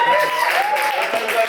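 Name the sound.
audience applause for a comedian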